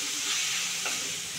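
Finely chopped tomato fries in hot spiced oil while being stirred, giving a dense, steady sizzle heard up close.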